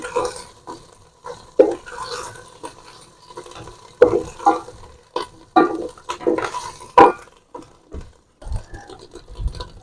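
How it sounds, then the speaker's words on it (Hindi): Ginger garlic paste fries in a pot over an outdoor fire on a windy day, broken by repeated scraping stirs that come in short, uneven bursts, with quieter sizzling between them. "अदरक लहसुन को भून लें।"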